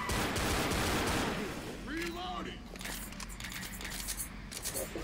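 Pistol fire in the zombie shooter Left 4 Dead, a burst of quick sharp shots at the start followed by sparser scattered cracks and metallic clicks, with game noise running underneath.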